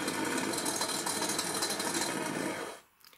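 An RC rat rod's engine-start sound effect: a steady, buzzing mechanical whir runs continuously at high level, then cuts off abruptly near the end, leaving brief quiet with a faint tail.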